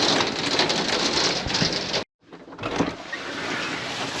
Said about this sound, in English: Still raining pretty hard, but it had hail piled up on the sidewalk.